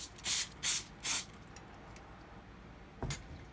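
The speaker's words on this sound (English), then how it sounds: "now I'm going to be using this spray adhesive, which is a contact adhesive" Contact spray adhesive hisses from an aerosol can in three short, close bursts, followed after a pause by a fourth brief spray.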